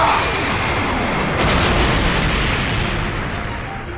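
Rapid sustained gunfire and blasts from an animated fight between Vegeta and Shadow the Hedgehog, forming a loud dense roar of shots and explosions that stays intense for several seconds before easing slightly.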